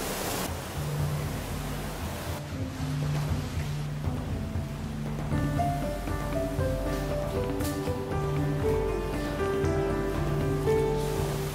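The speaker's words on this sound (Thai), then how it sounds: "ข้างหน้าเป็นดรอปน้ำตกลงไป" A waterfall drops along a stream inside a cave, a steady broad rushing roar filling the space, with faint tonal sounds layered over it later.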